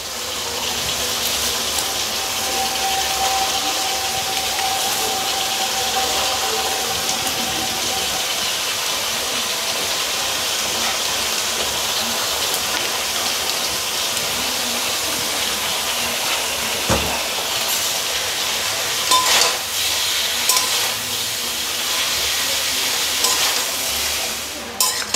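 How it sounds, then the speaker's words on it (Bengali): Shredded cabbage with spices sizzles steadily in a hot pan, a loud continuous frying hiss broken by occasional scrapes and clatters of stirring, close up and without talk. "বাঁধাকপি আর সমস্ত মশলা দিয়ে আমি ভালো করে মিশিয়ে নিয়েছি।"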